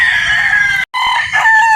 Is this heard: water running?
no